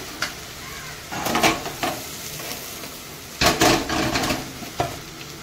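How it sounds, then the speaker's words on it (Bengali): Shrimp coated in salt and turmeric sizzling and frying in a pan, with bursts of stirring and scraping of a utensil against the pan at intervals. "আমি চিংড়ি মাছটা নুন হলুদ মাখিয়ে রেখে দিয়েছি, এবারে একটু ভেজে নেব"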